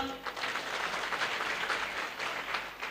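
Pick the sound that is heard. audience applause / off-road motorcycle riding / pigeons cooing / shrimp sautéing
audience applause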